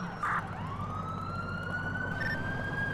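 Police car siren in the GTA IV video game, a rising wail that sweeps up and holds steady over a low engine drone, fairly close and continuous.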